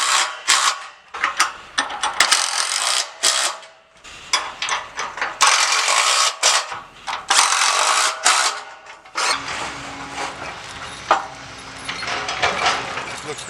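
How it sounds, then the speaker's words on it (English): Bolts tightened on a free-standing pontoon canopy, a rapid ratcheting whir in bursts with brief pauses, loud and close, then a steadier mechanical drone toward the end. "we'll go ahead and tighten the 4 bolts."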